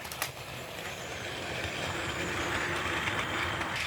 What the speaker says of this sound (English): It's just an absolutely stunning locomotive.